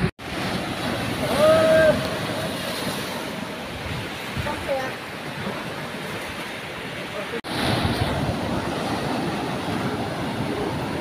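Sea waves breaking at the ocean surface, a continuous moderate wash of surf with gusty wind noise throughout, briefly cut once midway, and a faint whistle-like tone early on.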